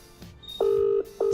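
Telephone keypad dialing tones sound as a call is placed: a short faint beep, then two loud sustained tones with a brief gap between them, clear and close, with no talking over them.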